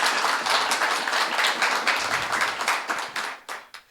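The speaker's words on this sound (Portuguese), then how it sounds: "Assim que oiga isso, se vai aplaudir, aplauda o rei." A church congregation clapping, dense and fairly close, holding steady for several seconds before thinning out and fading in the final moment.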